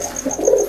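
A pet bird, likely a dove, gives a soft close cooing call, a brief low throaty murmur with a faint high tone behind it.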